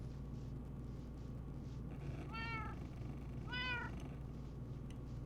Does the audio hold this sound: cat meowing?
yes